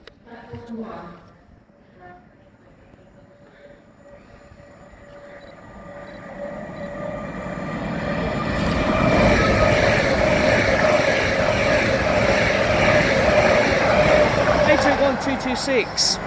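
A passenger train approaches a railway station platform in England, its rumble and wheel noise swelling from faint to loud and holding steady, with a humming tone and a voice briefly audible early on.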